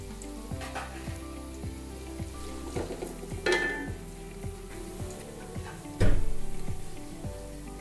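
Onions frying in ghee for chana pulao, a steady soft sizzle with occasional stirring clinks and one louder crackle near the end, with no talking.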